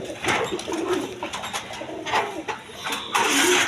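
A pair of Kalpit pigeons on a farm coo repeatedly in low, murmuring calls, close by, with faint engine noise in the background.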